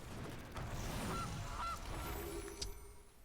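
A synthetic goose honk sounds from the Gilded Goose card in the Magic video game, two short nasal honks over quiet game ambience, fairly soft and close.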